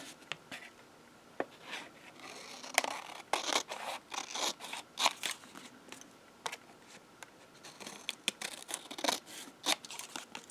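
Scissors trim paper for a junk journal page, giving close, crisp snipping cuts in quick irregular runs with small pauses and soft rustling between them.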